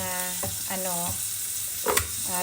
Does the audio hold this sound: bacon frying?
yes